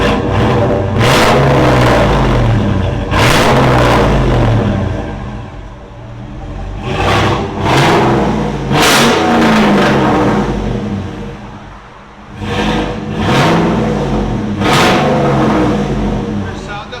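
A 2013 Chevy Silverado with a 6.0L V8 and an NTR racing muffler revs repeatedly in loud, surging bursts between lower idle stretches, close by, with voices talking at times.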